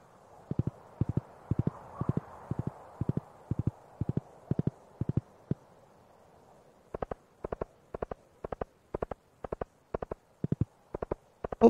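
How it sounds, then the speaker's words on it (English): Horse hooves clip-clop in the farming game Stardew Valley, a steady run of paired soft knocks at an even trotting rhythm, first over a faint rumbling background, then crisper and louder on a harder surface. "All right, horse, take me to Harvey"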